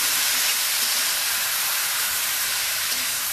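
Red spinach leaves dropped into a hot pan of fried kalai dal sizzle and steam, a loud, dense, continuous hiss that stays steady from start to finish with no voices.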